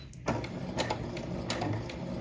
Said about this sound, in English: I'm just gonna do that basting stitch around the curve